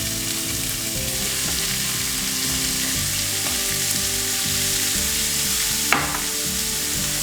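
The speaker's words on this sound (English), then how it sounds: "I'm gonna leave a little at the bottom of the pan so we can cook our onions right in that." Onions frying in bacon grease in a pan, a steady close crackling sizzle throughout with a faint low hum underneath and a single sharp clink near the end.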